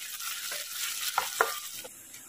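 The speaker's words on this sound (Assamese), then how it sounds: "এইখিনি অকণমান ৰঙচুৱা হোৱাকৈ ভাজিব লাগিব আৰু সেইকাৰণে কম জুইত ভাজি আছোঁ" Ginger frying gently on a low flame for a spinach and egg dish, a soft steady sizzle with a few quiet scrapes and taps of stirring, close and faint.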